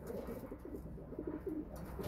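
Breeding pigeons of a show breed (kings) coo softly in a loft, a few rolling calls repeating close by under a faint background murmur.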